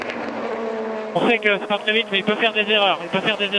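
Endurance prototype race cars at the 4 Hours of Monza drone past with a sustained engine note, soon overlaid by a commentator talking loudly over the track noise.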